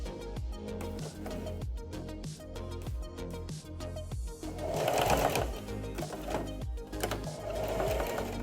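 A sewing machine stitches the center front hood seam of a fur cat hat, running in short repeated bursts with brief pauses, then a longer, louder continuous run, close and alone with no talking.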